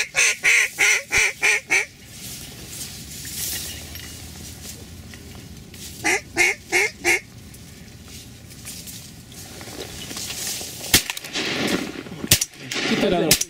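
Shotguns fire in rapid bursts during a duck hunt, two quick volleys of loud blasts, with ducks quacking and hunters talking in between.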